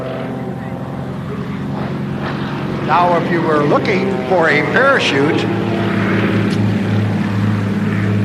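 A propeller airplane drones steadily with a low, continuous engine hum throughout, while someone speaks over it.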